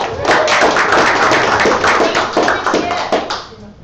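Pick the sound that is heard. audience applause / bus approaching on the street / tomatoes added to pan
audience applause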